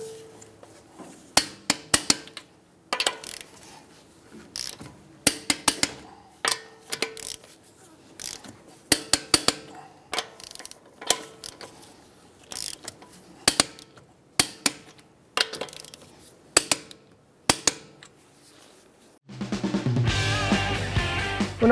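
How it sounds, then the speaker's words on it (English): A wrench tightens the lug nuts on an Acura MDX wheel with a 22mm socket in a crisscross pattern, giving bursts of sharp ratcheting clicks separated by pauses, then a louder mechanical whir at the end. "We're going to tighten them down to 94 foot-pounds"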